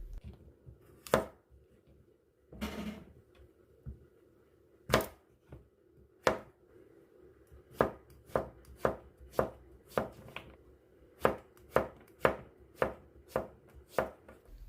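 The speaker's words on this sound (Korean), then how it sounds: "애호박을 약간 도톰하게 썰어주세요." A knife cuts zucchini into thick slices on a cutting board, producing sharp, distinct thunks. A few come at uneven intervals, then a quicker steady run of chops follows, close and clear in a quiet room.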